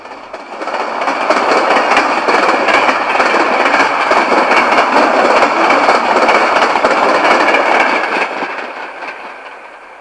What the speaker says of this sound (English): a Penn Central coal train returning empty from the Dow Chemical Power Plant at Midland, Michigan, headed for Toledo